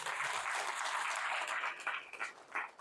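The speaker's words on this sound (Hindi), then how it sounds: "हाँ मजा आया तो ताली जोर से मार, तो सब मारेंगे" Audience applause fills a sales training seminar, a dense steady clapping that runs the whole stretch and breaks into a few sharper individual claps toward the end.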